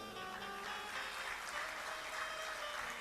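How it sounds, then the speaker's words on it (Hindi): Applause from an audience at a Shiv Mahapuran religious discourse, a dense and steady clapping that lasts the whole stretch and sounds somewhat distant. "आज तो आप बड़ी जोर से तालियां बजा रहे हैं।"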